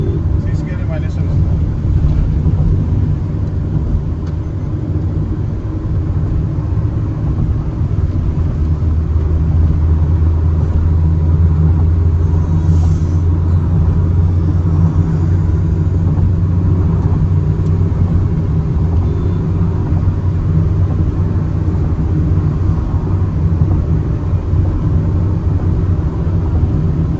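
Maruti XL6 car engine while driving, a steady low rumble of the engine and road noise heard from inside the cabin throughout, with people talking over it.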